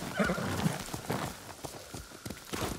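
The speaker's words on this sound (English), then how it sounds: "horse!" Horse in the video game Ghost of Tsushima, whinnying with hoof clip-clops and game ambience, continuous and moderately loud throughout.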